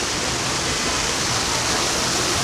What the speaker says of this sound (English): coming down to some nice waterfalls behind us